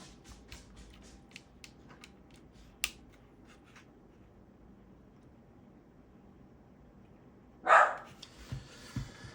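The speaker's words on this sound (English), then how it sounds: "My dog's barking" A dog barks indoors: a sharp, loud burst late on, followed by a couple of softer yaps, after a long stretch of quiet room noise with faint clicks.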